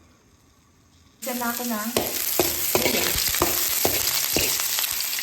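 Garlic hits hot cooking oil with a sudden loud sizzle that starts after a second of near silence, then keeps frying steadily with sharp stirring clacks and scrapes, while a voice talks briefly.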